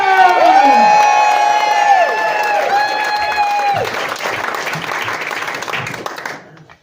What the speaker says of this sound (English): Start with applause. Build it up